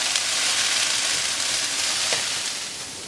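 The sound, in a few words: vegetables stir-frying in a wok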